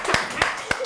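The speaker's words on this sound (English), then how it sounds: "Hey, let us clap for Mark." A few people clap for Mark, three distinct sharp claps spaced evenly and close by, with talking in the background.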